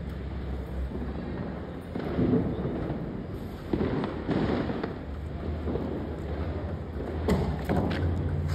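Diwali fireworks boom and crackle outdoors in a dense, continuous barrage, with several louder bursts standing out against a steady rumble.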